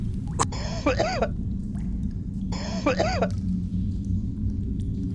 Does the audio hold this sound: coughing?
yes